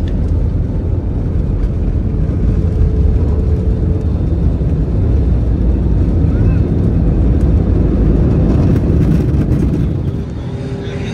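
A passenger airliner touches down at Allama Iqbal International Airport in Lahore, its loud, steady engine and runway roar filling the cabin continuously and easing slightly near the end.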